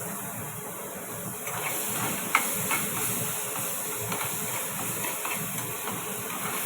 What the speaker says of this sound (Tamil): நம்ம இஞ்சி பூண்டு பேஸ்ட்டும் ஆட் பண்ணிக்கலாம்.